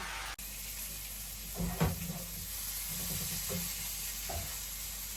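Turmeric and chili masala frying in a pan with a little water, giving a steady close sizzle broken by a few stirring scrapes and knocks of the spoon, with no one talking.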